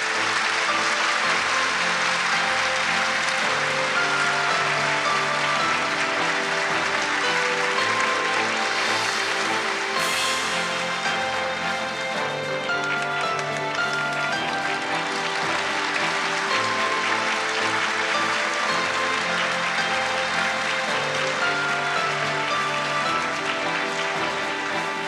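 Long, loud, continuous applause from the audience at the 78th Mainichi Film Awards ceremony, a dense even roar of clapping lasting the whole stretch with no pauses.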